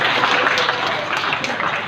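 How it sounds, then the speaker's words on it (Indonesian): Audience clapping and applauding at an Islamic Ramadhan camp religious talk, a steady dense wash of hand claps lasting the whole two seconds, fairly loud and without a break. "Tepuk tangan ya."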